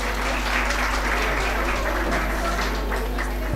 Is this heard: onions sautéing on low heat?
no